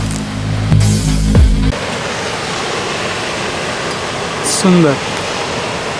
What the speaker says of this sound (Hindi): इस तरफ ब्यूटीफुल वाटरफॉल है